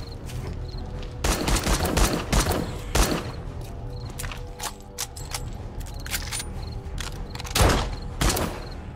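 Gunfire from the survival game 7 Days to Die: scattered bursts of shots, some loud and close, others sparser, with a heavy volley near the start and another late, over a steady game ambience.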